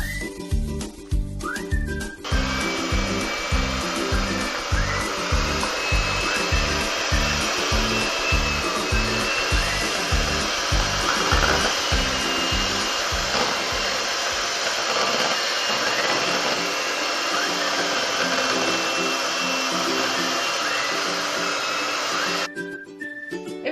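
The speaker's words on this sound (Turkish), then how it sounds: "Mikserle 5 dakika çırpça." An electric mixer whips cake cream with a steady, loud motorized whirring for about twenty seconds, with rhythmic low thumps at the start, then cuts off.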